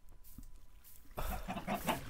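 Chickens cluck in the Minecraft video game, a few soft clucks at first and then a denser, louder burst of clucking over a busier in-game background.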